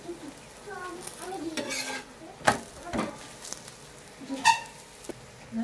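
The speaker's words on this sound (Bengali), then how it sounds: "চলুন হালকা করে আঁচ দিয়ে আঁচ দিয়ে ভাজতে থাকুন পরোটাগুলো।" Parathas frying in oil in a pan over low heat, a soft sizzle under scattered clinks and scrapes of a utensil against the pan, fairly quiet and close.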